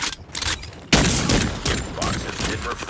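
Rapid bursts of gunfire in the Carnival Shoot Out shooting-gallery video game crackle loudly and densely, with overlapping shots and a heavier blast near the one-second mark.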